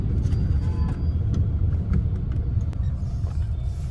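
Car driving in second gear during a driving lesson, a steady loud low engine rumble running throughout without pause, with no talk over it.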